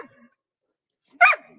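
A dog gives a single sharp, close bark after a moment of near silence.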